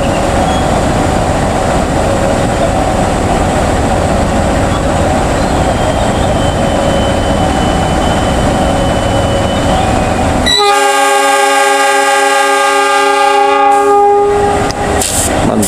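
Loud, booming train horn sounding signal 35 as the Mutiara Selatan train departs Rancaekek station bound for Bandung, a long sustained blast breaking in sharply after a stretch of station ambience and holding strong to the end.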